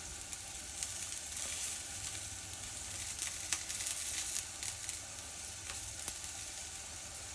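A chipolata sausage frying slowly over turned-down heat in a small kitchen pan, giving a soft, steady sizzle with faint crackles and pops, quiet and close with no talk.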